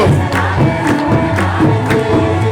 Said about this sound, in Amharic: እልል እያላችሁ አመስግኑ።